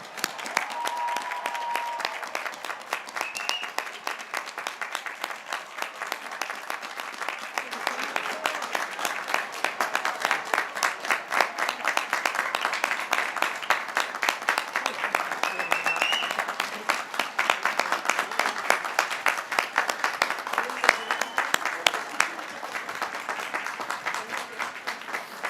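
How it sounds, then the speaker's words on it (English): Sustained applause from a large commencement audience honouring new Bowdoin College graduates, a dense, even clapping that continues steadily throughout without talk. "give a round of applause for the newest Bowdoin graduates"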